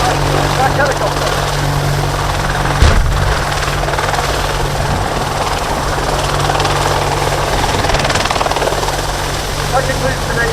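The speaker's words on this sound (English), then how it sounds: "That concludes today's demonstration of the Army Air Corps Apache helicopter." Army Air Corps AH-64D Apache helicopter in a flying display at an air tattoo, its rotor drone loud and steady throughout with a brief thump near three seconds, under faint public-address talk.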